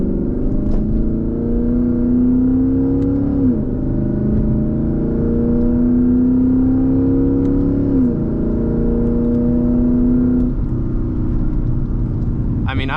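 A Lexus IS F V8 engine drones steadily while driving, its pitch climbing through gears with brief drops at each shift, loud and close from inside the car.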